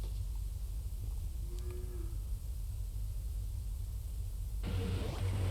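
Cattle in an old cow byre used for batch milking on a 1967 farm in Arva, County Cavan, Ireland; a single faint, low moo rises briefly through heavy steady hiss and rumble.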